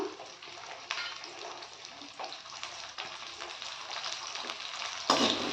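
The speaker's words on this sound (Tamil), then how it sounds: "இப்போ வெங்காயம் வந்து நல்லா வதங்கணுங்க வதங்கட்டும் பார்க்கலாம்" Sliced onions sautéing in hot oil in a pan with dried red chillies and curry leaves for Tamil onion kulambu, a soft steady sizzle with occasional stirring scrapes, fairly quiet.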